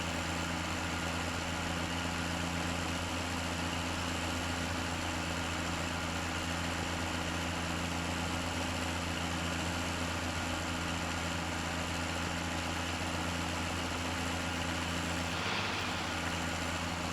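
A tractor engine in the Farming Simulator 17 video game drones steadily and loudly throughout, a constant mechanical hum with no change in pace and no talking.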